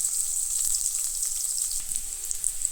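Dried chili, garlic and onion fry in hot oil with a soft, steady sizzle and faint crackle, heard alone.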